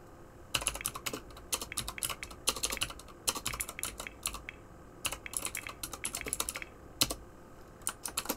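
Rapid bursts of keystrokes clatter on a computer keyboard, close and crisp, arriving in uneven clusters with short pauses between, no voices.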